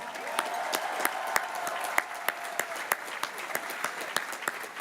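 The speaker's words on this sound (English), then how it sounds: "How about a round of applause for the LMU family?" Commencement audience applauding the LMU family at the 2024 LMU undergraduate ceremony, a steady wash of clapping from a large crowd with sharper individual claps standing out near the front.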